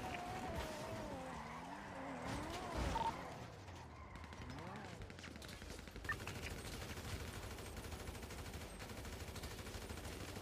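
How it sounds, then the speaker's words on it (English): Bursts of gunfire ring out during a GTA roleplay shootout, with sharp cracks and rapid volleys over engine noise, under frequent excited talk from players. "They're shooting. They're shooting."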